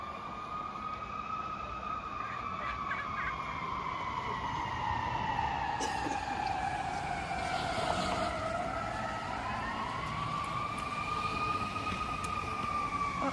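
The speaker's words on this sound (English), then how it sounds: "I heard a bunch of trucks, fire trucks." Fire truck sirens wailing through a Toronto city street, several overlapping rising and falling tones, sustained and moderately distant over traffic rumble, with no talking.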